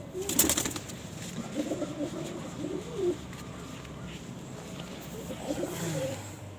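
A Lal Chini pigeon, a breeder bird, coos in low soft repeated phrases at close range over faint background noise, with a few brief sharper sounds near the start.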